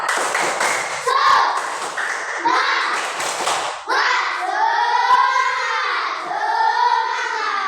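Schoolchildren in a classroom performing a rhythmic group clap cheer, a few seconds of brisk patterned clapping followed by children chanting together in unison, close and loud.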